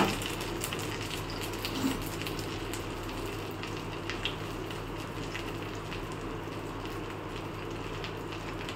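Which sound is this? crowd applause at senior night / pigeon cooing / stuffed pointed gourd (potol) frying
stuffed pointed gourd (potol) frying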